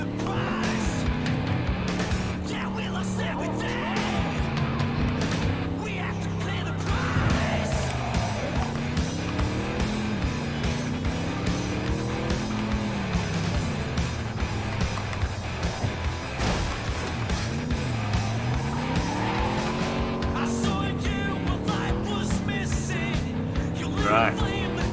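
A car drives in the Cyberpunk 2077 video game, its engine rising and falling in pitch through repeated accelerations, with occasional crash-like impacts, while someone talks over it throughout.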